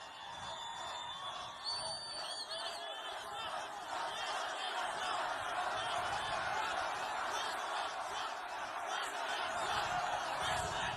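A large crowd at an outdoor political campaign rally in Sanford, Florida murmurs and chatters continuously, with scattered laughter and shouts, heard from a distance at a moderate, even level.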